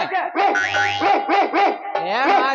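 A dog barks loudly and close by during a rural village comedy stage play, giving a quick run of repeated barks and yelps with a short pause before a final burst.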